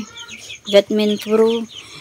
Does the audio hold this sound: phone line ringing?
no